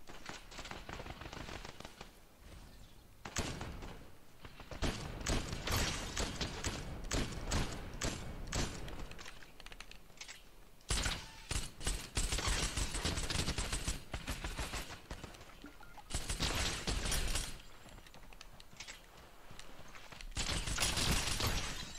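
Fortnite video game gunfire comes as repeated bursts of shots and thumps across the stretch, loud and choppy with short pauses between volleys, with no speech.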